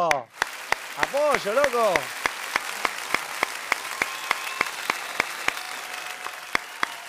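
Sparse, sharp hand claps repeat at a regular beat from a small audience while a voice speaks briefly near the start.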